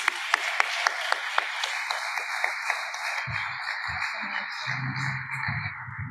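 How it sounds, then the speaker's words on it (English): An audience claps at the Schools2030 Global Forum, fairly faint and steady in a large hall, then the applause fades out as a voice begins talking. "So can you please give the biggest round of applause for Alexandra?"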